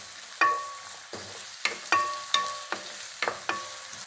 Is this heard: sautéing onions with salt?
yes